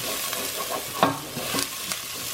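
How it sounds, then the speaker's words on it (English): Onions frying in a pan on medium heat for chicken and vegetable pies, a soft continuous sizzle broken by a few light stirring scrapes close by. "So I'm going to cook this until the onions are translucent."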